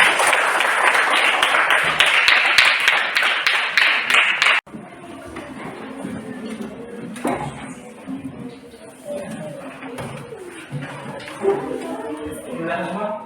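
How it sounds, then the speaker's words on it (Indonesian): A classroom group is applauded, with a dense burst of many hands clapping for about four and a half seconds that cuts off abruptly, followed by quieter room murmur and shuffling. "kita tepuk tangan untuk kelompok"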